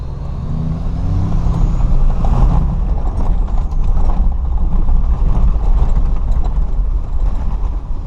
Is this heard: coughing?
no